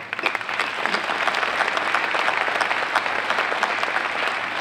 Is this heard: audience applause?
yes